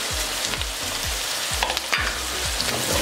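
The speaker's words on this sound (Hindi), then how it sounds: "अब इसको 1 से 2 मिनट के लिए हम भून लेंगे।" Whole garam masala spices, including black pepper, cumin seeds and cinnamon, dry-roasting in a pan, with a steady close crackle and sizzle and repeated rhythmic scrapes of stirring throughout.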